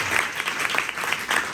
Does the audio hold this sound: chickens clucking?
no